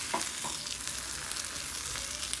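Cheese sizzles and fries steadily in a hot pan for low-carb taco shells, with a constant close crackling hiss and a few faint stirring clicks.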